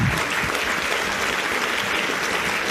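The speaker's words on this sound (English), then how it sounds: "another big round of applause for Andres." Steady, even applause from a seated audience at a conference talk, continuous and moderately loud throughout with no talking over it.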